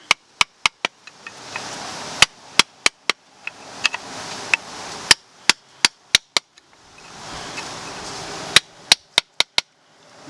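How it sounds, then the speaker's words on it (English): A hammer taps a flat-head screwdriver to free a parking brake part on a Nissan Versa, giving sharp, close metallic strikes in quick clusters separated by brief scraping pauses. "put in a flat head in the middle of it, and just get a hammer, just try to tap it out"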